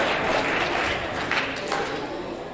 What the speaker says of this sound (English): please give, these musicians a round of applause